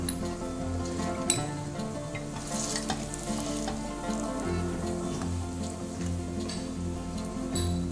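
Korean hotteok sweet pancakes frying in a pan produce a steady, close sizzle with light crackling and occasional stirring sounds, continuous and without speech, over a faint background hum.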